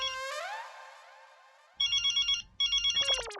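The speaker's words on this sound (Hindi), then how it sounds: "अरे ये तो जेठालाल का फोन है" A mobile phone ringtone plays a rising electronic melody, then repeats a pulsing chirping pattern in two bursts before a wavering high trill, close and clear with no voices.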